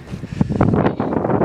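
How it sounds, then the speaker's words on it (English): Strong wind gusts across an open launch field, buffeting the microphone with a loud, continuous rumbling roar for the whole stretch. "It's really windy."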